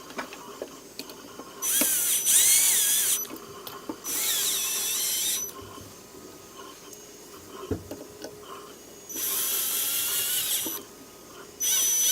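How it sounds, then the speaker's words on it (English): A small power driver runs M3 bolts in to mount a power supply during a printer electronics build, three separate whirring bursts of one to two seconds each, separated by quiet pauses with faint handling clicks. "And you will use M3 bolts to mount that power supply."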